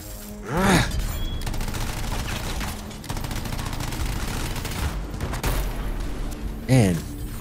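A rocket turret firing in the video game Anthem during co-op combat: steady heavy barrage of gunfire and blasts throughout, with whooshing projectile sweeps near the start and end, and voices briefly under the din.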